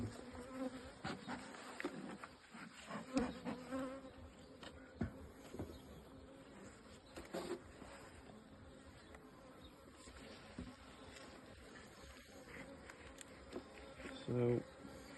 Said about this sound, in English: So we'll smoke these bees. These bees in here are AMM bees.